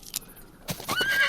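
A video-game horse pulling a buggy neighs in a short, bright whinny alongside quick hoof clip-clops, close and clear over about a second.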